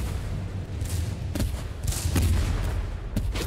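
Gunfire in a shooter video game: scattered shots and booming reports over a steady low rumble, with several sharper cracks standing out.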